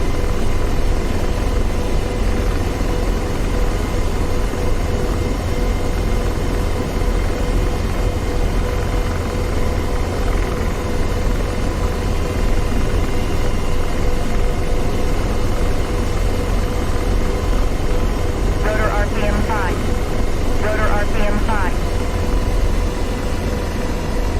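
An AH-64D Apache helicopter in the DCS World flight simulator drones with a steady, loud, even rotor and engine roar throughout, joined by a couple of brief tonal beeps late on, with no talking.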